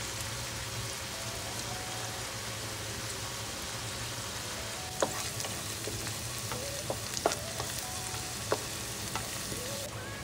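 Chopped onion frying in hot oil with dried red chilli, cinnamon, cardamom and a bay leaf, a steady soft sizzle with a few sharp clicks of stirring near the end.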